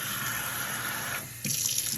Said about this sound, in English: Then we're gonna get 3 cups of water.